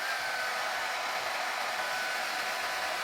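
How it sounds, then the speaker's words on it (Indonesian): A hair dryer blows at close range to warm an eyelash curler, giving a steady, loud airy whoosh that holds unchanged for the whole stretch, alone with no talking. "Jadi penjepit bulu matanya biasanya aku angetin dulu pakai hair dryer."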